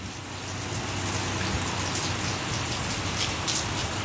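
Steady rain patters on a small Toyota C-HR, a dense even hiss of drops on the car's surfaces holding constant throughout, with no voices.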